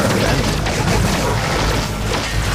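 In the game Iron Marines, a grenade blast makes a loud, dense booming crash that fills the whole moment, with rumbling debris-like noise sustained throughout amid game combat.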